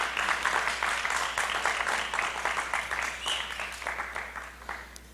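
A church congregation applauds at a Sabbath service, a dense, steady patter of many hands clapping for several seconds that gradually thins and fades.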